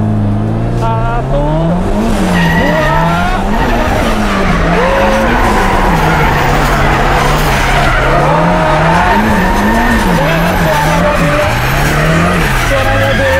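A boosted Daihatsu Charmant drifts with loud, continuous tire squeal over a revving engine whose pitch rises and falls through the run. A voice speaks briefly near the start.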